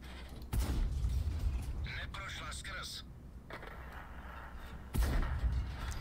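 Tank cannon fire in a video game: two heavy, booming shots about four and a half seconds apart, each with a sharp attack and rumbling tail, with someone talking between them.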